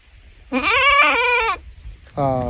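Cross-breed goats bought at a livestock market bleat loudly and close by, one long wavering call followed by a shorter second bleat.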